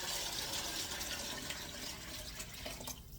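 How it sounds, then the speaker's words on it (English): Dark cooking liquid pours steadily into a pot, making a continuous splashing, trickling gush that eases off slightly toward the end, with no one talking. "You'll see how dark it is as I pour it"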